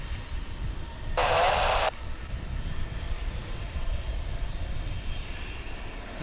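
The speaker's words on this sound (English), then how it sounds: "It's on its way to Los Angeles. That's an A320." An Airbus A320 airliner departing DFW airport rumbles steadily at a distance, a broad low jet-engine roar that lingers throughout, with a brief loud hiss burst early on.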